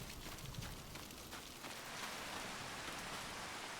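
Steady, dense rain hiss in Farming Simulator 25 with no pauses, a soft even wash of falling water that thickens slightly toward the end.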